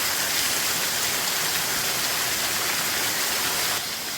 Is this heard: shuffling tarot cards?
no